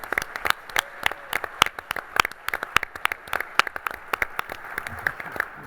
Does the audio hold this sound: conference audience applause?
yes